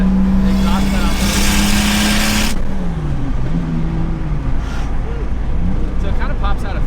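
Inline-six 2JZ engine swapped into a Mustang, exhaust cutout open, droning loud and steady with shifting pitch as it revs and settles, with people talking over it.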